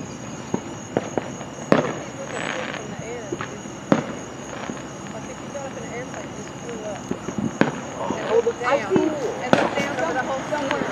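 Fourth of July fireworks burst outdoors near mountains, with sharp cracks and booms at irregular intervals over about ten seconds and fainter crackling between them, heard at moderate distance with crowd noise and people chattering underneath.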